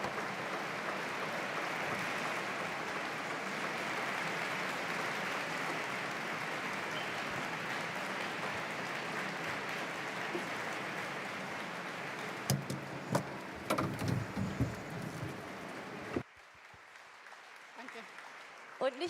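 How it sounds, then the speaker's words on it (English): An audience at a conference stage event gives a long, steady round of applause that holds evenly for about sixteen seconds, then a few scattered claps and stage noises follow before it stops. "now I ask you for one more round of applause for Marlene Engelhorn."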